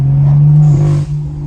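A straight-piped BMW's exhaust lets out a deep, loud rumbling brap close by, then the note tapers off with a short dip where the blow-off valve would follow.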